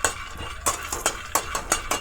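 Peanuts are stirred in a dry pan, giving a quick run of close scraping and rattling strokes, about six sharp bursts over two seconds against a faint background hiss.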